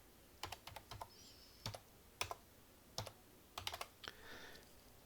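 Keys tapped on a computer keyboard while an IP address is entered to connect to a Neptune 4 Pro 3D printer: irregular bursts of close, quiet clicks separated by short pauses.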